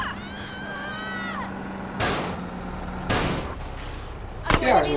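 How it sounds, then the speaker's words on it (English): Gunfire in the GTA San Andreas video game, a few sharp broadband cracks spaced about a second apart over a steady engine-like drone and sirens, fairly close and loud, with a voice faintly present. "Quit shooting at me"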